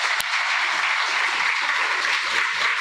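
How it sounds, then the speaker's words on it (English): Guests at a long service award ceremony give Mr. Rahman a round of applause, loud dense clapping from a crowded room, steady and unbroken, with one sharp knock near the start. "Give Mr. Rahman a better round of applause"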